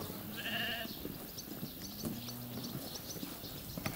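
A goat bleats at a rural spot with a hut, one nasal cry early on and a lower call midway, heard faintly over outdoor background noise and rustling.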